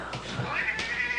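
A pet cat gives a few drawn-out, wavering meows close by inside a house, carrying on for about a second with no talk over it.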